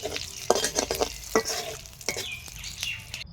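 Panch phoron, bay leaf and dried chilies fry in hot oil in a wok, giving a close, steady sizzle broken by scraping stirs and a few sharp crackles.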